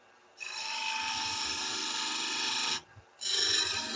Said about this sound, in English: finish off by tipping in there with the skew